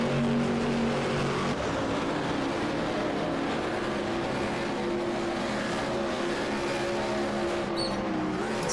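Race car engine droning steadily in a racing video game at Kyalami, a loud continuous multi-toned hum with slight pitch shifts, close and constant with no talk over it.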